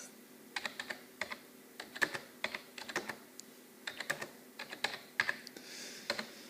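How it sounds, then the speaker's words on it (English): Light, irregular tapping on a Samsung Galaxy tablet keyboard, bursts of quick keystrokes separated by short pauses, close and fairly quiet. "I'm typing over the top of the camera so it's quite hard"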